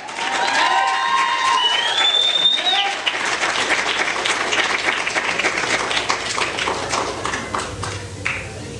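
A church congregation at an anniversary service claps and shouts together, loud dense applause with cheering voices throughout, a few sustained shouted tones rising above the crowd early on.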